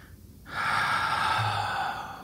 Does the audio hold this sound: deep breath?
yes